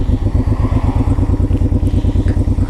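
A Honda VTX 1800 motorcycle with its 1800cc engine runs while riding, a loud, close, deep pulsing rumble with steady rapid rhythmic beats and no voices.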